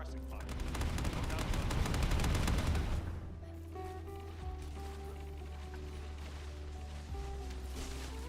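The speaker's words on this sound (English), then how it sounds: "On your signal will initiate suppressing fire." Sustained automatic gunfire in The First Descendant pours out as rapid, dense bursts of suppressing fire for about three seconds, loud and close, then drops away to a quieter background of game sounds.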